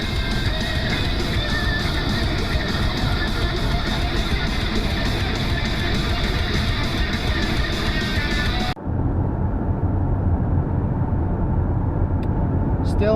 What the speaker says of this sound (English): Still driving through Nevada, still on the way to Salt Lake City.